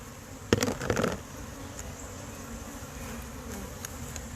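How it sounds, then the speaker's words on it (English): About 300 honey bees buzzing in a cup, a steady close drone with a brief louder rattle of wings near the start. "There's my cup of bees."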